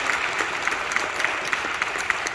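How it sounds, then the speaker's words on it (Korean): Church congregation applauding, a short burst of many hands clapping at a steady level with a few sharper claps standing out near the front. "박수 한번 주시고."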